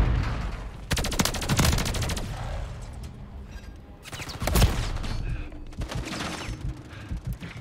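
Automated turret guns in a video game let off rapid bursts of gunfire, a long loud volley near the start, a sharp heavy blast midway, then shorter scattered rounds with mechanical clatter between them.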